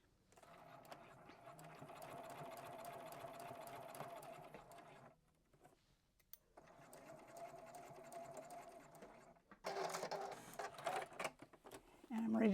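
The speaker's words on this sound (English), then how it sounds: "So I'm going to continue sewing." A sewing machine stitches a quarter-inch seam on quilt binding in two steady, buzzing runs separated by a short pause. It plays fairly quietly, with a burst of handling noise toward the end.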